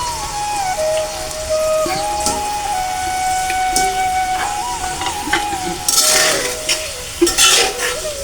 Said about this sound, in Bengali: এখন আমি এই মাছটা এর ভিতরে দিয়ে কষিয়ে নিব।